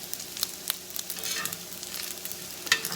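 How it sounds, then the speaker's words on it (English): Bacon frying in a cast iron frying pan, a steady close sizzle with crackling pops and occasional stirring scrapes, no voices. "We're just going to throw this into the cast iron frying pan and fry these down until they're crispy."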